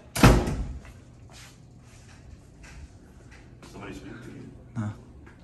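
A door slams shut hard and close at the start, followed by quieter thuds and a second softer door bump later, with people talking in the background.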